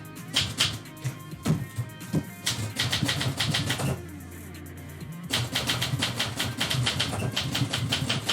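Keys of a typewriter clack in quick irregular bursts while poetry is typed live, with brief pauses, a carriage or mechanism rattle, and a steady low hum underneath.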